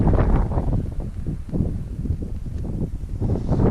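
Wind gusts roar steadily across a snowy moor at a wild camp, a loud, buffeting rush with low rumbling thumps against the microphone and no pauses.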